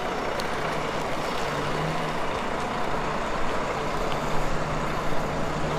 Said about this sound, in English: These buses are in the way. Get out of the way, buses.